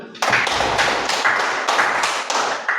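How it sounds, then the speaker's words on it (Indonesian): Children clapping together in a classroom, a few loud rhythmic rounds of claps in near-unison, close and bright, with no talking over them. "Kasih tepuk tangan dulu"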